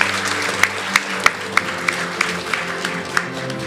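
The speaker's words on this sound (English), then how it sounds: "let's have one more round of applause for all of our age 9 to 10 category finalists." An audience applauds the age 9 to 10 category finalists at a children's speech competition, a steady moderate wash of clapping with some louder individual claps standing out at a regular pace.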